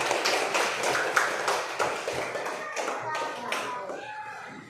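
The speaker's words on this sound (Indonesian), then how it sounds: "Beri tepuk tangan dulu untuk Nathan dan Revan." A classroom of children claps for two classmates during a practice teaching lesson, a burst of quick, uneven handclaps close by that gradually thins and fades over nearly five seconds, with faint voices mixed in.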